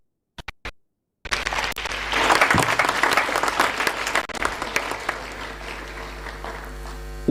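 Audience applause at a school's 80th anniversary celebration: after a few isolated claps, a loud, dense wave of clapping from a large crowd rises and holds, thinning slightly toward the end.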